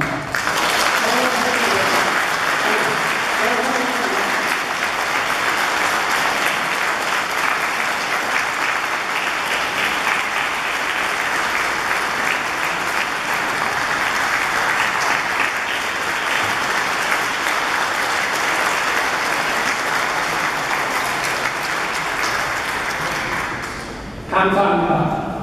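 Sustained, loud applause from a large group of guests at a consulate anniversary dinner banquet for community organizations, steady dense clapping for about twenty-four seconds before a brief pause and renewed burst.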